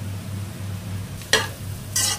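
Three or four green chillies fry in a pan for dhaba-style paneer, giving a low steady sizzle and two short bright bursts of hissing and stirring, heard close with no talking.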